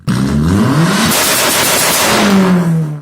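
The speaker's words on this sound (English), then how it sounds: "At first, car sound." A car engine revs hard and loud up close, the pitch climbing then holding a steady roar before easing off at the end.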